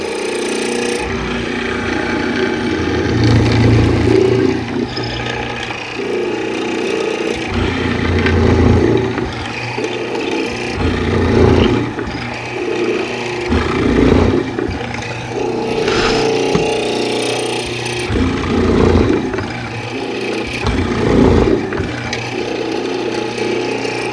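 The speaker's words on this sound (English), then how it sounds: "let's cut some mortises" Mortises are cut into a wood workpiece with a power tool, which grinds and whines in repeated swelling bursts about every few seconds over a steady motor hum.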